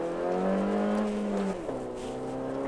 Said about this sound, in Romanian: Așa se simt 4 cilindri în linie, nu?